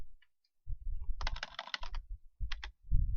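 Several computer keyboard keys are pressed for a Control-Shift-F shortcut, giving a quick run of crisp clicks and clacks with short pauses between them, close and clear in a quiet room.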